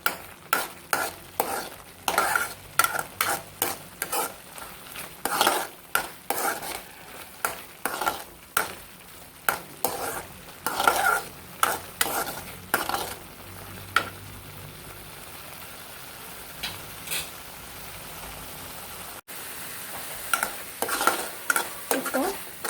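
A spoon stirs a thick egg bhurji curry simmering and sizzling in a pan, with sharp repeated scraping strokes in an uneven rhythm over a faint, steady bubbling hiss.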